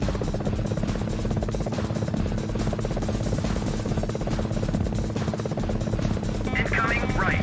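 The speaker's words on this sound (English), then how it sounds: "Incoming right. Enemy chopper." A steady, throbbing helicopter rotor drone from the PlayStation combat flight game Gunship runs continuously and loudly, with a brief beeping alert near the end.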